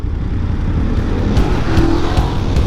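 Motorbikes ride in a group on a Delhi road as a BMW GS overtakes, their steady engine drone filling the scene with a few brief rising passes and no talk.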